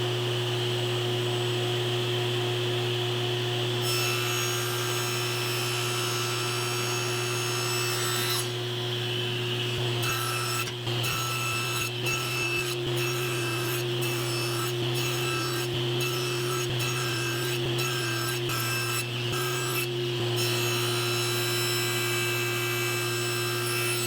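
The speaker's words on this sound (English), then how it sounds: "these cuts are also going to be beveled cuts, so I'm going to set the saw up," A power saw runs with a steady loud hum while beveled cuts are made in wood, and a rapid series of short rasping cutting strokes sounds over the drone.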